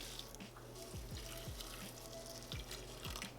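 Water pours steadily into a pot of oatmeal with a soft, continuous trickle and splash, close by and fairly quiet, no talking.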